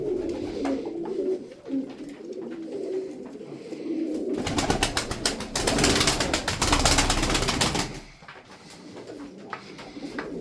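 Sütbeyaz pigeons coo in soft repeated low calls close by, interrupted midway by a few seconds of loud fluttering and flapping wings before the gentle cooing resumes.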